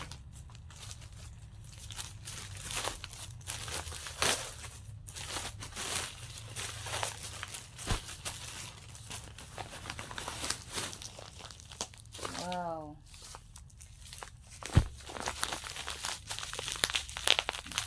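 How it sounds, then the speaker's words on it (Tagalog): A plastic-wrapped parcel is opened and unwrapped with continuous close crinkling, rustling and tearing, a few sharper snaps, and a brief exclamation from a person partway through. "So, mag-open tayo ng parcel."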